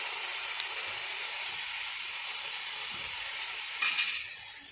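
Tomatoes sizzle steadily in a hot pan with ginger garlic paste, a continuous close frying hiss with a brief stirring scrape near the end.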